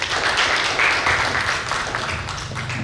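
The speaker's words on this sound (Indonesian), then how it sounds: "Kita berikan tepuk tangan lagi Bapak Ibu." Audience applause at an Indonesian seminar-style presentation, a steady dense wash of clapping lasting throughout, fairly loud and without speech over it.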